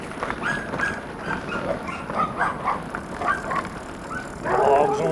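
Several dogs barking, yipping and whimpering out of doors, a busy mix of overlapping calls at moderate distance that grows slightly louder and more excited toward the end.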